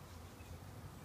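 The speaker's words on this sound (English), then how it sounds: "This is our bee swarm." An urban bee swarm close to the microphone: a dense, continuous buzzing hum of many bees, steady and fairly faint, with no voices.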